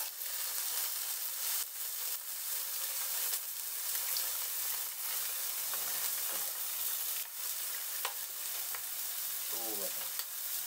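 Salmon frying in a pan for cheese-grilled salmon makes a loud, continuous sizzle, broken now and then by short scraping and stirring sounds and a brief squeak near the end.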